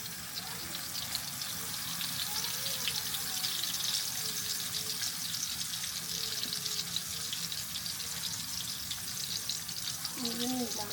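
Two pieces of hilsa fish fry together in hot oil, giving a steady, close hiss and sizzle that runs unbroken, with faint voices in the background.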